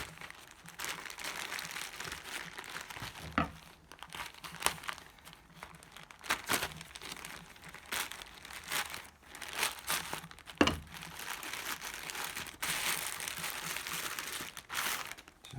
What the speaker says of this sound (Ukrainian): І зараз я буду розпаковувати, що там у мені є.